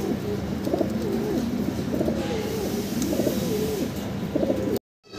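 Pigeons coo in a soft, repeating rolling rhythm close by over light background ambience, and the sound cuts out abruptly just before the end.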